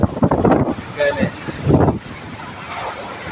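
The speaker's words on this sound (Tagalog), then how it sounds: "Napakalakas sa hangin guys" Strong habagat monsoon wind rushes across the microphone in a steady roar, while someone speaks in short bursts over it.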